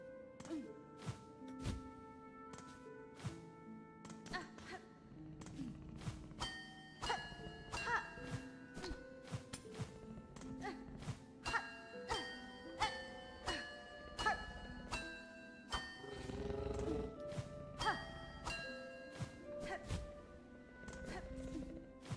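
Bells in the video game Silksong ring out as a run of bright, evenly spaced metallic chimes. Many strikes sound over a low rumble and game clatter, steady and fairly close.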